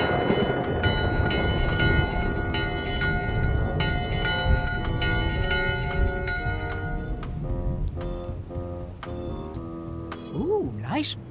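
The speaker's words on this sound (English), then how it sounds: "Ooh, nice bell ringing." Ship's bell aboard a pirate ship in Return to Monkey Island, ringing as repeated metallic strikes over a dense music and ambience bed, with a sliding tone near the end.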